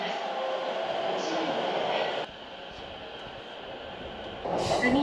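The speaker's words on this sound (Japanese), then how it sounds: "次に乗るのは再びの黄色い電車、中央総武各駅停車" Yellow Chuo-Sobu Line local train running, a steady rumble of the rail car with shifts in level as it travels, voices faintly present over the rolling noise.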